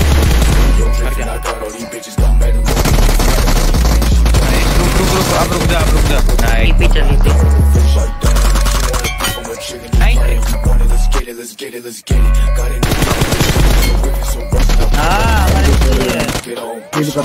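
Rapid gunfire from a shooter video game on a Poco X3 Pro phone, loud and dense bursts with brief gaps, layered over game music and effects for the whole stretch.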